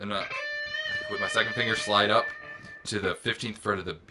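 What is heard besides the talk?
No distinct noise like a dog, phone or traffic.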